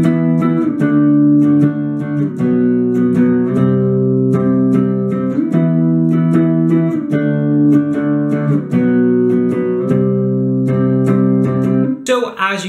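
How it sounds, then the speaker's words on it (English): Guitar plays the chorus riff of a song, a steady stream of rhythmic chord strums repeating in a regular cycle for over twelve seconds, loud and sustained with no talking until a brief break at the end. "and the chorus should sound like this."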